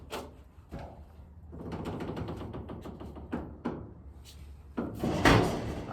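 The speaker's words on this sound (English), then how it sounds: "I'm gonna open up this door." A shop door is opened with wooden, mechanical clunks and a sliding rattle, followed by a louder burst of scraping noise near the end, heard up close with no talking.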